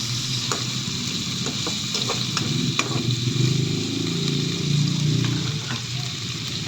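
Shrimp sizzle steadily in a hot frying pan as they cook alongside string beans, with scattered stirring clinks and scrapes over a continuous, fairly loud frying hiss.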